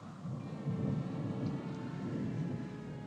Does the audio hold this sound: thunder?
yes